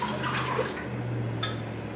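Water pours steadily into a pot for pickling brine for quail eggs, a soft continuous splash close by with a brief bright clink near the end.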